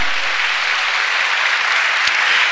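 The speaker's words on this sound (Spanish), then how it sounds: "¿Cuánto le dan un aplauso al Señor" Congregation applauding during a church sermon, dense continuous clapping that holds steady and fairly loud throughout.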